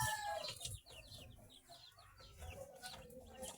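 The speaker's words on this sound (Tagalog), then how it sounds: "may naririnig na akong bagong sisiw, bagong pisa na sisiw sa incubator." Newly hatched chick in an incubator, making a quick run of high, thin peeps close by, faint against a low background hum.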